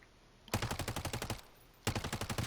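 Suppressed light machine gun in a video game firing two sustained bursts of rapid, evenly spaced shots, the first about a second long and the second after a short pause, loud and close with no talking.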